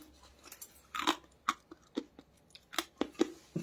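Crisp crunching bites into jaggery-coated makhana balls, a series of sharp close chews in an uneven rhythm, each crunch distinct against a quiet background with no talking.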